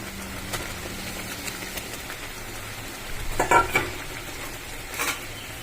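Minced paneer is stirred and fried in a pan with chilies, giving a faint, steady sizzle with a brief burst of scraping and clatter partway through.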